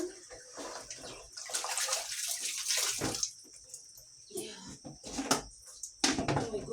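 Fresh water is poured for farm poultry, splashing and trickling in bursts with short pauses, close and fairly loud, with a voice talking faintly at times.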